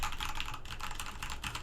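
Rapid keystrokes on a Corsair K70 Rapidfire mechanical keyboard with Cherry MX Speed switches, a dense, steady clatter of close-up clicks with no pauses.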